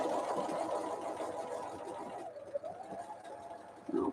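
A sewing machine stitches fabric with a steady, close mechanical hum that slows and stops near the end, followed by a brief small whirring.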